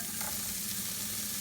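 Chopped broccoli, carrots, onion and green onion frying in a pan for shrimp fried rice, a steady loud hiss of sizzling held close and unbroken.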